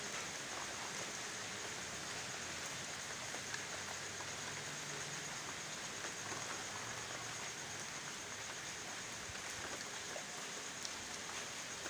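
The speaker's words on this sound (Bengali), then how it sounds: "দেখা যাচ্ছে চারিদিকে জলে ভরে গেছে, এত বৃষ্টি হচ্ছে।" Heavy monsoon rain pouring over a flooded Bengali village, a dense, steady hiss of falling water and splashing drops that stays even and unbroken from start to finish.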